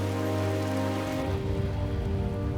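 Heavy rain pours down in wet, stormy conditions near a river in grizzly bear country, a steady, loud, close wash of drops with no voices.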